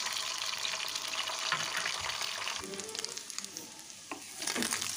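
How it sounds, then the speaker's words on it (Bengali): An egg fries in hot oil in a wok, a continuous bright sizzle with scattered pops and a few soft clinks, fairly quiet overall. "তেলটা গরম হতে ডিমটা দিয়ে দেবো উপর থেকে।"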